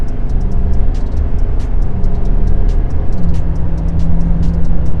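A brand-new stock L5P Duramax diesel pickup truck makes a wide-open-throttle pull, a loud, continuous low engine roar and drone heard from inside the cab, steady throughout with some rising pitch.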